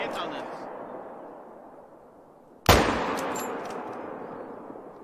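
A single loud, sharp rifle shot rings out mid-clip with a long echoing tail, fired at a trophy moose in theHunter: Call of the Wild, over a steady outdoor ambience.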